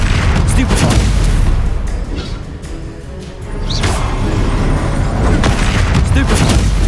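Booming spell blasts and crashing impacts in Hogwarts Legacy combat, loud and continuous across the clip with a brief dip in the middle, layered with rumbling explosions and whooshes.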